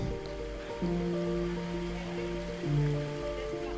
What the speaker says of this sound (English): So a waterfall is pleasantly falling down